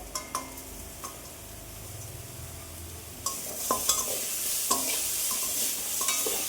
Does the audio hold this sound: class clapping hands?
no